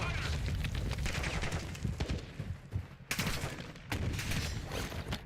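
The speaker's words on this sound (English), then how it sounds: "Uh-oh, taking shots. Taking effective fire." Rapid automatic gunfire and crackling shots in the video game Black Ops 6 fill the moment with dense, loud bursts, some sharper volleys standing out over the ongoing firefight.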